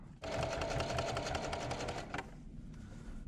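Sewing machine stitching a rectangle onto a pair of jeans during a repair, a steady rapid rattling whir that runs for about two seconds and then stops, followed by quieter room noise.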